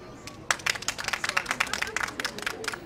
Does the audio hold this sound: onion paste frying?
no